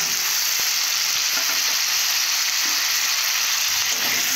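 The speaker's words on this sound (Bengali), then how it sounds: "এইভাবে মেখে নেব আলুগুলো।" Cut potatoes sizzle loudly in a hot pan while being stirred, a constant bright frying hiss broken by occasional scraping clicks of the utensil.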